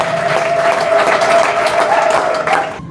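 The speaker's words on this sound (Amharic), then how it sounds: "ለእግዚአብሔር ክብር አጨብጭቡለት" A church congregation at a prophetic worship service claps loudly and steadily in a dense, continuous burst, with a faint sustained tone beneath. The clapping fades quickly at the end.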